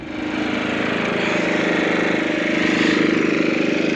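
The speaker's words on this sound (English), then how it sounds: "Mom is on her way down with the tractor." Farm tractor engine drawing nearer, a steady mechanical drone that swells from quiet to loud within the first half second and then holds close and even, with no talk over it.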